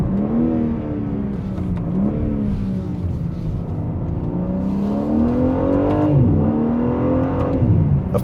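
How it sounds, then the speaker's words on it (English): A 2025 BMW M3 Competition engine revs and pulls hard under acceleration, the exhaust note rising and falling through gear changes, loud and close. "especially when you lay into the throttle and that exhaust warms up a bit"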